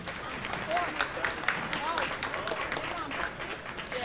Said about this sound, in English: One more round of applause for everyone we have here in the building tonight.